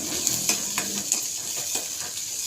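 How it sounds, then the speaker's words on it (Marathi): Onions and peanuts frying together in a pan, a steady close sizzle broken by a few light scrapes of a spoon stirring against the metal. "आता हा कांदा थोडासा लाल झाला आहे, मग हे शेंगदाणे पण याच्यातच मी टाकते, भाजून घेते"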